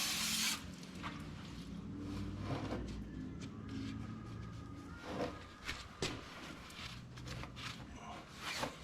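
Parts cleaner sprayed onto rear brake parts of a Yamaha Grizzly 90 ATV, heard as a few short, close hissing bursts with rubbing and handling noises between them.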